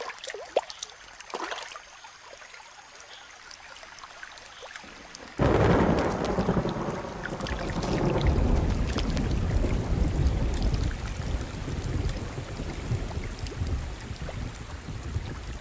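A thunderstorm breaks with a sudden loud crack of thunder that gives way to a long rolling rumble and heavy steady rainfall, following a quieter stretch of light rain and drips.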